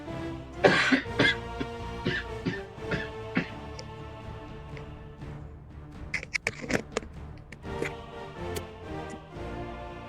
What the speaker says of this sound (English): Sorry, my cough's acting up.